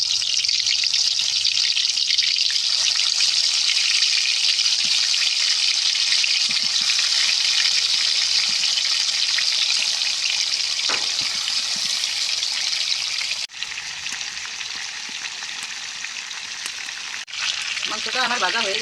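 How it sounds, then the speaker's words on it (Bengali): Marinated chicken fries in hot oil in a wok with a loud, continuous hissing sizzle that drops abruptly in level partway through, then carries on more quietly with a few bubbling, spattering bursts near the end. "তেলটা গরম হয়েছে, এখন আমি মাংসটাকে ভাজা নিব।"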